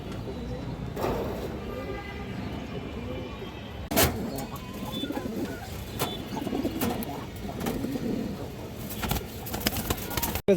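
Male and female racing pigeons in a loft give soft, repeated coos over a steady low murmur, with a few sharp knocks and someone speaking nearby.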